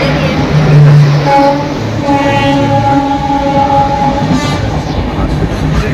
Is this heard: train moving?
yes